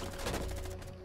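Gunfire in the Rainbow Six video game, a rapid burst of repeated automatic shots in a brief, steady rattling rhythm at moderate loudness.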